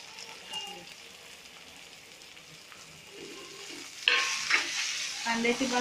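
Spring onion greens stir-fried with a crushed chilli thecha for Khandeshi vangyache bharit: a soft sizzle at first, then louder scraping and tossing of a spatula against the pan in bursts near the end.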